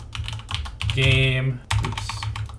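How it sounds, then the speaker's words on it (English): Quick keyboard typing of console commands on a computer for Dota 2, a few bursts of keystrokes close up, with someone talking over them. "So we are going to type in developer 1, and then we are going to type Dota"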